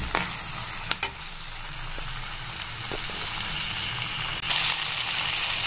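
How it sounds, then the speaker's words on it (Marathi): Tomatoes with ginger-garlic paste being stirred in a frying pan for a green bean dish give a steady, close sizzle with scraping stir strokes and a brief louder burst of hiss near the end. "आता हे पण मी मिक्स करून घेणार आहे।"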